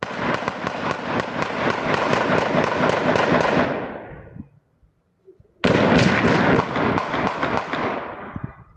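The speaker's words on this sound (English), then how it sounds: "More than 40 gunshots can be heard." Dense, rapid bursts of more than 40 gunshots crackle continuously in a street shooting, break off into a brief silence, then resume just as loud and fast.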